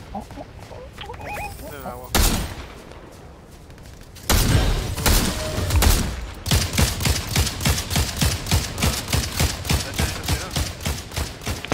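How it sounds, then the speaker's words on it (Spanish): Gunfire in the video game Fortnite: a few separate shots early on, then a long, loud burst of rapid automatic fire with evenly spaced shots. "Un disparo."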